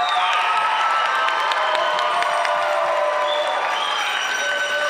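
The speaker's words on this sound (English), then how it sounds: "So let's give another round of applause for our semi-finalist" Audience applause and cheering at a Utah America pageant in 2022, a dense, steady wash of clapping with shouts and whoops layered over it, holding loud and even throughout.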